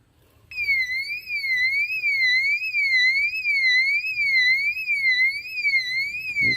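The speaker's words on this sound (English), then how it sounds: "Let's see what this alarm does." A garden bird deterrent alarm starts abruptly and wails steadily, a loud electronic rising-and-falling warble repeating in a fast cycle, nothing else audible.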